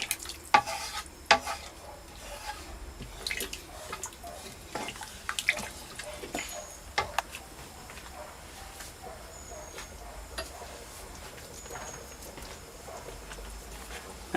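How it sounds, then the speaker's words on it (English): A spoon stirring lamb curry sauce in a pan after water is added, with intermittent scraping clinks and wet sloshing, fairly quiet and close, a voice briefly present. "Stir away."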